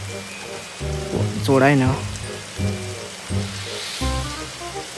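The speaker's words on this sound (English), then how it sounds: "it's raining like hell outside" Heavy rain pours outside in the video game Midnight Train, a constant hiss of falling water running beneath someone talking close to the mic.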